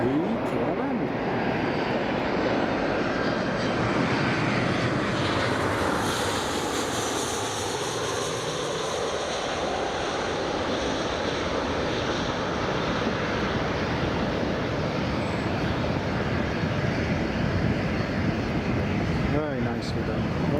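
A Cessna Caravan propeller plane arriving on runway 25 at Newcastle airport, a continuous loud engine drone with a shifting tone, heard under a speaking voice.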